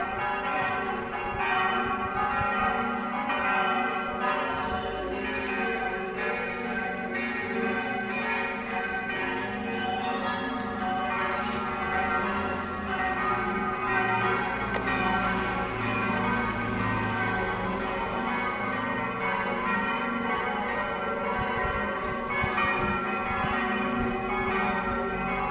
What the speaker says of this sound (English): You can hear the bells of Medjugorje